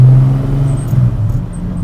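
Turbocharged BMW E12 with an M30 engine under a hard acceleration pull, a loud, heavy drone heard from inside, its pitch wavering slightly while the engine strains.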